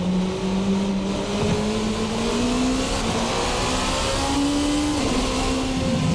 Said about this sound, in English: There's the rev limiter.